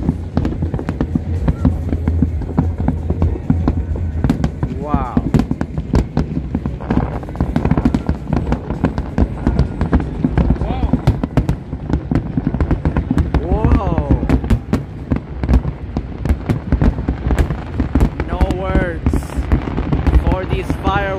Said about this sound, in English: You won't find these type of fireworks anywhere.